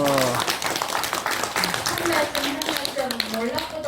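Applause from a lecture audience at a special talk launching a think tank, a dense patter of many hands clapping throughout while a voice speaks over it.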